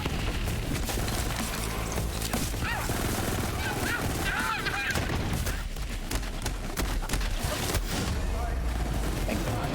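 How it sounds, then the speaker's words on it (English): Explosions and gunfire from the video game Borderlands 3 crash through a dense, continuous wash of combat noise, with talk running underneath throughout. "Now I heard the explosion"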